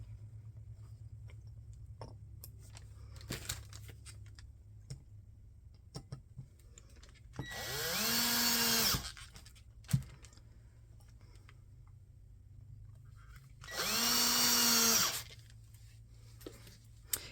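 A power drill drives a screw in for a hook with two whirring bursts, each lasting about a second and rising in pitch as the motor spins up. Scattered small clicks and handling knocks fall between the bursts.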